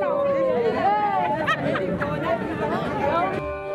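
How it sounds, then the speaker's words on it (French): A crowd greets newlyweds leaving a wedding hall during the COVID-19 period, with a lively babble of many voices talking and calling out at once, close and steady throughout. "à leur sortie de la salle, c'est toute une foule qui les accueille"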